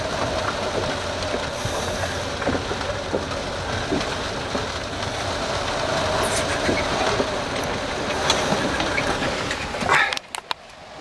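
Storm wind roars steadily outside the closed cabin of a small Com Pac 23 sailboat anchored off Mullet Key in Tampa Bay, a loud continuous rush with a few knocks near the end.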